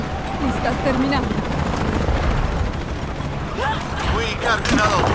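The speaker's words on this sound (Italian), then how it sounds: "Altri elicotteri." Helicopters in the video game Shadow of the Tomb Raider, a steady rotor drone throughout a busy combat scene with gunfire-like bursts, under continuous talk.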